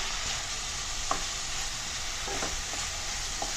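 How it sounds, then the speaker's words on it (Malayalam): Chicken sautéing over full flame in a pan for a Kerala-style stew, a continuous close sizzle broken by a few light scrapes and taps of a stirring spoon. "ചിക്കൻ ചേർത്തിട്ട് ഒന്ന് വഴറ്റിയെടുക്കുന്നുണ്ട്."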